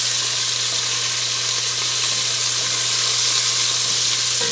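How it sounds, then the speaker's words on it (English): Sweet onions sauté in oil at the start of a Mississippi pot roast, giving a loud, dense, unbroken frying hiss close by with no talking over it. "I'm putting this all in here and I'm going to saute this around."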